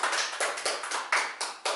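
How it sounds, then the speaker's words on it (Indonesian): Classmates clap together in a classroom, a dense burst of hand claps in several short waves, fairly close and with no voices over it. "Tepuk tangan yang lain."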